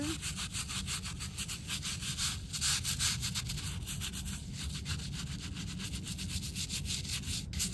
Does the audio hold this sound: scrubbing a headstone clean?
yes